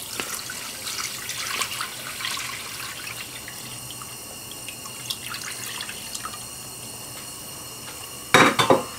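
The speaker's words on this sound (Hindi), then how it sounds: "पानी डाल लें इसमें।" Water pours into a pan of washed raw chicken on a stovetop in a Pakistani home kitchen, making a steady trickling wash with a few light clinks, then a sharper, louder splash burst near the end.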